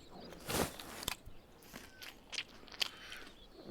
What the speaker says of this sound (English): munch on this. Have a little bit of fish.